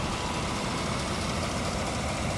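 A 2015 GMC Sierra 1500 crew cab's 5.3-liter EcoTec3 V8 idles steadily with the hood up, a constant broadband engine rumble held at an even level throughout, with no talk.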